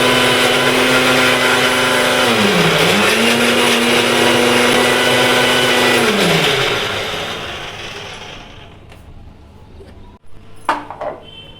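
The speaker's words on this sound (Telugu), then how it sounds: "మిక్సర్ గ్రైండర్లో పల్లీలు పచ్చిమిరపకాయలు వేసుకొని గ్రైండ్ చేసుకున్నాము" Kitchen mixer grinder whirring loudly and steadily as it grinds peanuts and green chillies for ridge gourd chutney, briefly dipping in pitch twice, then winding down and stopping, followed by a few light clicks.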